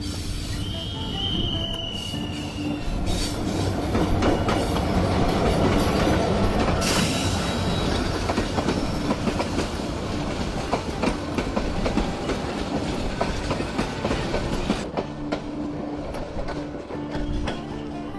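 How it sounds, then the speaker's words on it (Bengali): A train runs through Santahar railway station, loud and close, with steady rumbling, clattering wheels and high squealing that hold for the whole stretch before easing slightly near the end. "ট্রেন একটি আসতেছে।"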